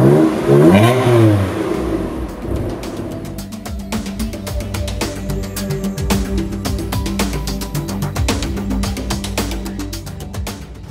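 A San Marino Blue BMW M4 with a 510-horsepower AC Schnitzer-tuned engine revs hard, opening with a loud rising-and-falling sweep and then holding a busy, crackling idle-to-mid rev that continues steadily to the end.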